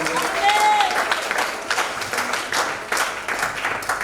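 A church congregation applauds and cheers for a few seconds, a steady wash of clapping and crowd noise with voices mixed in.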